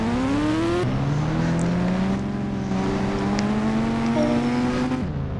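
A car engine revs loudly and close during an attempted stunt, its pitch climbing, dropping back, then rising again in a sustained whining drone as the car strains.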